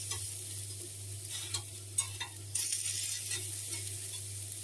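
Zucchini with garlic and olives fries in a pan with a steady soft sizzle, broken by clinks and scrapes of stirring, close and fairly quiet.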